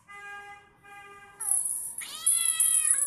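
A cat meows several times, starting with short tonal calls and moving into louder, drawn-out, strained meows, close and clear with no other sound around it.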